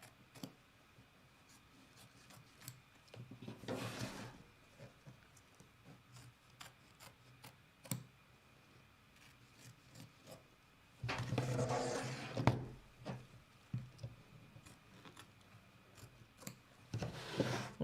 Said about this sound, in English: now I'm going to trim away the extra fabric around that star